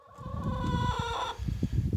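Chickens cluck and a hen gives a drawn-out, sing-song call up close, followed by soft scratching and shuffling noises.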